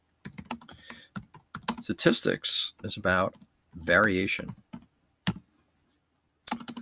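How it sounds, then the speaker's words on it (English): Computer keyboard keys click in quick bursts of typing, close and crisp, alternating with someone speaking in between the keystrokes. "my typing skills are a little rusty."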